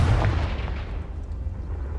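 A Confringo blasting spell in Hogwarts Legacy goes off as a single heavy explosion right at the start, with the low boom fading into a rumbling decay over the next two seconds.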